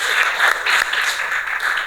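Classmates in a classroom applaud a student, a short burst of steady hand clapping lasting about two seconds at moderate loudness, with no voices over it.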